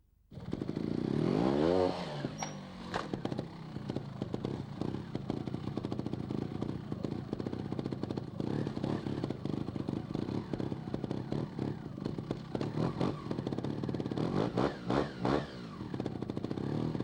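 Trial motorcycle hopping its rear wheel onto a rock step, a sharp engine rev at the start, then a steady, fairly loud mid-pitched engine running with rattling clatter throughout, no talking.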